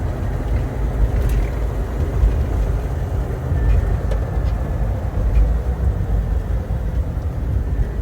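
A 1987 Jeep Grand Wagoneer with a freshly rebuilt transmission drives along, its engine and road noise a steady low rumble from inside the cabin with no sharp jolts as it shifts.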